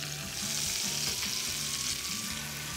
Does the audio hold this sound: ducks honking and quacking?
no